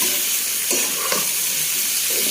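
Liver cooks in oil with turmeric and spices, a dense, continuous sizzle close up with a few soft stirring scrapes, no voices present.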